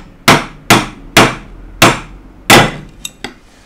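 Five sharp metallic taps on a replaceable-blade handsaw, struck in a slow, uneven rhythm, close and loud, followed by two lighter clicks as the blade comes loose.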